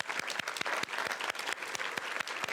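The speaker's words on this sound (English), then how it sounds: "I just want to give them a round of applause." A room full of people gives a warm round of applause at a Takoma Park city meeting, dense steady clapping close by and unbroken, with no voices over it.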